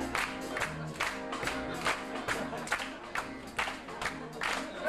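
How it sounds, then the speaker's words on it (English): A crowd claps in rhythm and cheers during a live sing-along performance, the claps landing in a steady, regular beat alongside music and singing. "Hey, you're good clappers."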